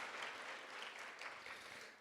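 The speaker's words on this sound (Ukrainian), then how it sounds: "гучними оплесками дякуємо за цю" Steady applause from a conference audience at an urban forum in Lviv, following a presentation, filling the whole stretch at a moderate level with dense, even clapping and no clear pauses.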